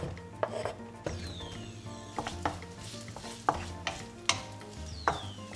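Sliced onion and crushed garlic frying in a wok, sizzling steadily while a utensil scrapes and knocks against the pan in irregular strokes every second or so, close and clear with no talking.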